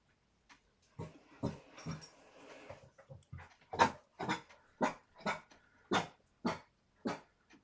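An indoor dog lets out a string of short, sharp barks mixed with whimpering, about a dozen bursts in an irregular rhythm, close and clear against a quiet room.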